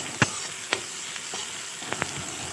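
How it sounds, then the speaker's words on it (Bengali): Onion, green chillies and garlic frying in hot oil for a fish curry, a faint steady sizzle broken by a few sharp spatters and pops, with no voices. "এবার তেল গরম হয়ে গেছে, পেঁয়াজ আর পরিমাণ মতো কাঁচা লঙ্কা দিয়ে ভেজে নিলাম।"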